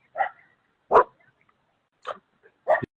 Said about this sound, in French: il y a de nouveau un chien